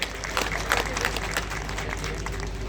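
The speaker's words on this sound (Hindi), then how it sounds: "मैं इनके स्वागत के लिए आप सबसे निवेदन करता हूं कि आप सब उनको ताली बजा करके स्वागत करें।" Audience applause welcoming medal winners at a Khelo India opening ceremony, a steady crackle of clapping with crowd noise at moderate distance throughout.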